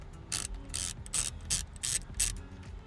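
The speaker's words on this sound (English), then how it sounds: "It's going to be like a T7 torx for you guys to pop these two little bolts out." A T7 Torx driver backs two tiny bolts out of a Hellcat paddle shifter on a Dodge Charger or Challenger, giving a series of quick, close ratcheting clicks in short bursts with no talk.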